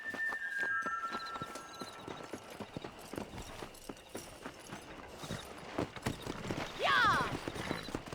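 Horse hooves clip-clop steadily in a Red Dead Redemption game scene, with voices talking over them and a horse whinnying sharply near the end.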